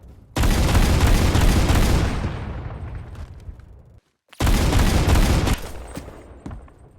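Rapid automatic fire from the M107 rifle with a boosted fire rate in the Phantom Forces video game: a dense, loud, continuous stream of shots that fades, cuts out briefly, then resumes in a second burst.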